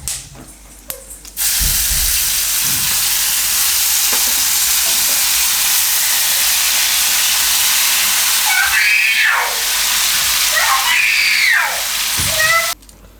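Gravy poured into a pan of bay leaves, black pepper, cloves and cinnamon sets off a loud, steady sizzle that runs for most of the stretch, with a couple of sharper spitting bursts near the end and no talking.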